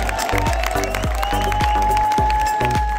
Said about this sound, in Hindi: एक बार जोरदार तालियों से